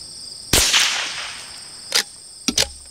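A Browning T-Bolt rifle fires subsonic rounds outdoors: one sharp crack with a lingering tail, followed by several shorter, fainter reports, against steady high insect chirring.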